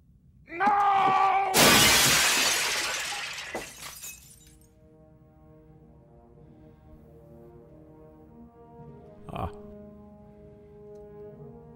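A sudden loud crash of glass shattering, with a burst of breaking shards that decays over a few seconds, then a lingering low tone and one later small clink, following a brief tonal sound.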